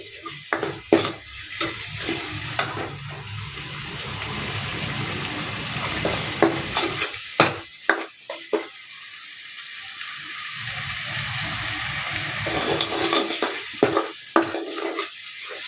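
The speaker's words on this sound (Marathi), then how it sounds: "छान तळून घ्यायचा मसाला तेल सुटेपर्यंत" A ground paste of onion, garlic and coconut frying in oil, with a continuous sizzle and stirring, intermittent utensil clatter, and a brief quieter stretch midway.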